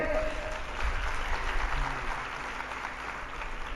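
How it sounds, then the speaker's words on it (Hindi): Applause from an audience at a Hindi spiritual discourse on Tulsidas and the Ramayana, a steady, fairly light wash of clapping lasting a few seconds with no voices over it. "तालियां बड़ी कमजोर है"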